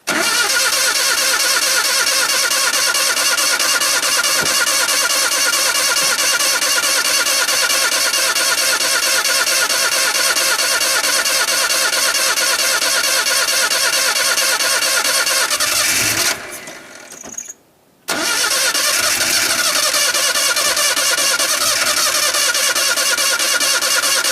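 A wood gas truck engine cranks and runs steadily at close range, loud and continuous, cutting out briefly near the end before starting again.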